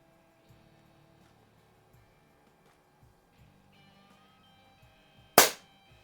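A single sharp crack from a Crosman Silhouette 1701P air pistol firing a pellet indoors across a garage, preceded by faint mechanical clicks and handling noises.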